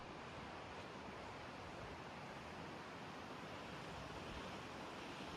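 Ocean waves wash steadily onto a shore in a dense, continuous roar of surf, with no breaks or talk and a soft windy hiss running throughout.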